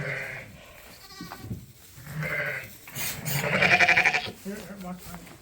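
Lambs bleat repeatedly in a sheep pen, the calls close and fairly loud, overlapping a person talking nearby.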